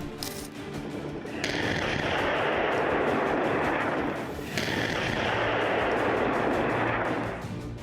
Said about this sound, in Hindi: उसी ड्रोन ने इस मेरकावा टैंक पर रॉकेट गिरा दिए, जिससे टैंक में जोरदार 2 धमाके हुए